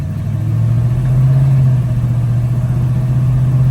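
Steady, loud low engine drone from a 1964 Chevy C10 Big Window shortbox pickup with a 700R4 overdrive transmission, cruising down a road, heard from inside with a constant rumbling hum and slight rise in level.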